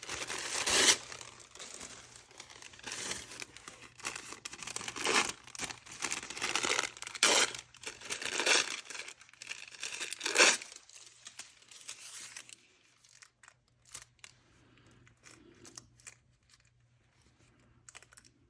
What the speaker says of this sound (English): So I'm just going to tear this